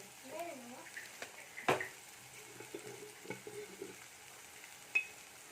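Tomatoes fry softly in oil while coriander powder, garam masala and chili powder are stirred in, making faint scraping and gentle sizzling with a few sharper taps against the pan.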